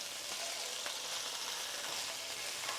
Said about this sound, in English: just until they sizzle nicely